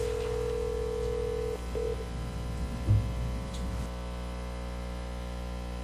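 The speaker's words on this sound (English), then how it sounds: "So enjoy the lovely ringing." Telephone ringing tone heard while a call connects to a bridge line at a state real estate commission meeting, a steady tone in the first seconds over constant electrical hum, then a brief low bump.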